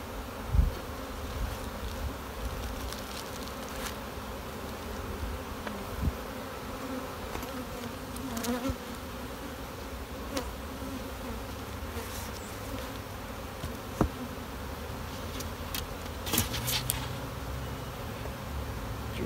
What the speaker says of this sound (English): I ever love these Saskatchewan bees.